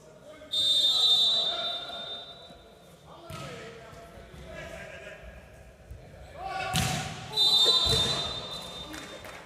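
During a men's Silver League volleyball match between the Netherlands and Latvia, a referee's whistle shrills twice to call a lifting fault. Thuds of the ball and arena noise sit underneath, with spoken commentary.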